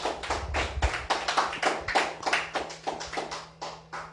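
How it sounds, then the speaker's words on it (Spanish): A church congregation claps during a Spanish-language Christian sermon, a series of distinct, fairly rhythmic hand claps with slight irregular spacing, moderately loud and close, with a low steady hum underneath. "Dele fuerte aplauso al Señor."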